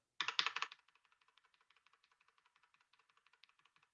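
Fingers type on a computer keyboard, a brief loud cluster of keystrokes followed by a steady run of soft, evenly spaced taps, close and alone.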